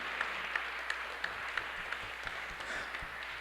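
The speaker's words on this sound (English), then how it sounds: "Another round of applause for Napoleon." Faint, distant applause from diners at a 2023 awards dinner following a keynote, a soft, even patter with a few sharper claps standing out.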